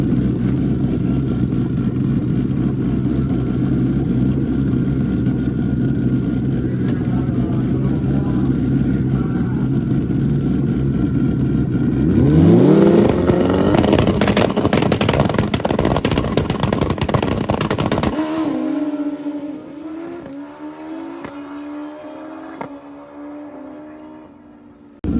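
A Bus1k drag racing motorcycle, run as a no prep bike, idles loudly at the line, then revs hard and launches down the strip in a roaring pass that fades into the distance.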